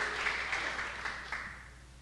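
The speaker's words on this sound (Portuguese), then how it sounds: "pode aplaudir o nome do Senhor" A church congregation claps during a worship service, a dense, even patter of many hands that carries on for a couple of seconds and gradually eases off.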